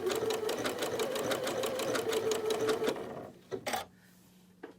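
Domestic sewing machine stitching a quilt block, running in a steady fast rhythmic whir for about three seconds, then stopping for a single slow stitch and a pivot with brief clicks.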